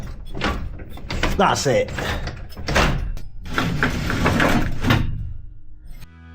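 A heavy door on a backyard underground bunker is pushed open and shut, giving repeated scraping, sliding and thudding sounds close by, with brief speech mixed in.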